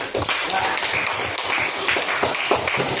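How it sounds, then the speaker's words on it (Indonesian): A school class claps for a student during a maths lesson. The clapping is dense, steady and loud, with a slightly rhythmic pulse throughout and no talk over it. "Tepuk tangan untuk Putri"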